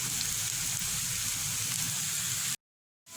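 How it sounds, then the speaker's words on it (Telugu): Chilli powder and spices fry in a pan with a loud, dense, continuous sizzle heard close up, cutting off abruptly near the end before briefly resuming. "రుచికి సరిపడ్డ కారం, కూడా కొంచెం పచ్చివాసన పోయినంత వరకు వేయించుకోవాలి"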